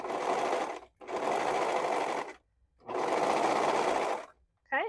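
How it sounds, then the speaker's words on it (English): A sewing machine stitching a neckband onto fabric runs in two long bursts of rapid close whirring separated by short pauses, with a brief faint sound at the end. "while you continue to sew."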